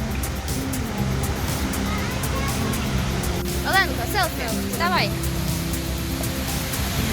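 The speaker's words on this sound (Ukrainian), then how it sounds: "Водоспад Чанджіон." Cheonjiyeon waterfall on Jeju Island gives a constant rushing roar of falling water. People talk and call out over it.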